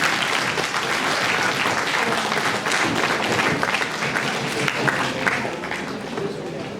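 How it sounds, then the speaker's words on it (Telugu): A university assembly audience at Osmania University claps steadily for several seconds, a dense, even roar of many hands with some crowd voices mixed in. "మీరు అందరూ క్లాప్స్ కొట్టాలి."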